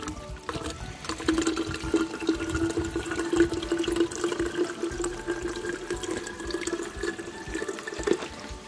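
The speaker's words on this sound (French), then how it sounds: "Et je vais donc boire l'eau de la fontaine." Water runs steadily from the Fontaine de Roland, an outdoor drinking fountain, a close, continuous splashing and gurgling stream lasting the whole stretch with a faint steady hum beneath it and no talking.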